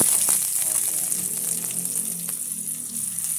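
Chopped onion sizzling in hot oil in a pan after garlic, cooking for Filipino bagoong: a steady, close, crackling hiss runs throughout with light stirring clatter, and a faint voice murmurs briefly.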